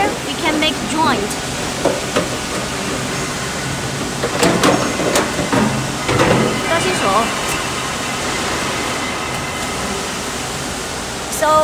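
A 3-in-1 downspout elbow forming machine running in a workshop, a steady loud mechanical roar and hiss with scattered clanks and squeaks as it forms a joint, while someone talks over it.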